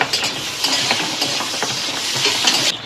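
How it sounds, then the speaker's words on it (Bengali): Tomatoes and onions frying in a pan for egg curry, a dense steady sizzle with small scraping ticks throughout, close and fairly loud. "এবার টমেটোগুলো দিয়ে দেবো, দিয়ে একটু ভাজবো।"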